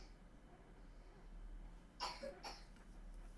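Two short coughs in quick succession, faint and a little distant, over a quiet background hum.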